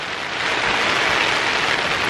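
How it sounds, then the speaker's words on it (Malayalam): Heavy rain beats on a camping tent on a windy hilltop at Vagamon, a dense, steady hiss that fills the whole stretch without a break and with no voices. "പുറത്ത് തകൃതിയായിട്ട് മഴ അതിന്റെ ഇരട്ടി കാറ്റ്"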